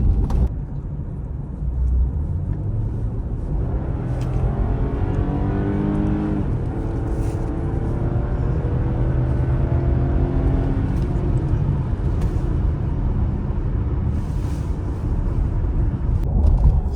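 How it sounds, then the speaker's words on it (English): An Audi Q7 SUV engine roars steadily from inside the cabin during hard acceleration, rising in pitch through several gear changes under constant road and wind noise. "let's do a quick acceleration run so you can see what this car is about"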